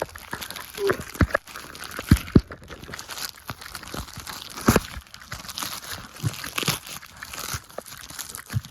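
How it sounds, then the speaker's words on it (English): A taped-up package holding a hoodie is torn open and unwrapped up close, giving continuous crinkling, crackling plastic and paper with sharp tearing snaps scattered throughout. "Let's get into the unwrapping"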